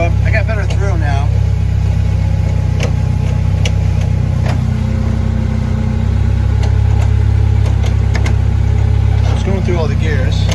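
A K-swapped Fiat 124 Spider engine runs steadily at a loud, close idle while the gears are worked through one by one, with mechanical clunks from the shifter scattered over the constant drone.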